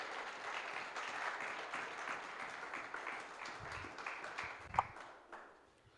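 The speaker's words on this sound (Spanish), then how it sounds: "Dale un aplauso si usted lo puede creer" Congregation applauding in a church during a sermon, a steady wash of clapping for about five seconds, one sharper clap standing out near the end before it fades.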